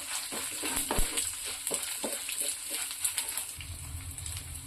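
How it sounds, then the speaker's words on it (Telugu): Half a spoon of cumin seeds sizzles in a pan with about ten crushed garlic cloves, a steady hiss broken by scattered pops and crackles, close and moderately loud with no talking. "ఒక హాఫ్ స్పూను జీలకర్ర వేసుకుని బాగా ఫ్రై చేసుకున్నాం"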